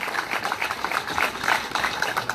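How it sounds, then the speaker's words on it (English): A crowd claps as a racing inductee from Bartow, Ohio is honored at a raceway Wall of Legends ceremony; dense, steady applause fills the short moment at moderate distance. "if you can give him a nice round of applause"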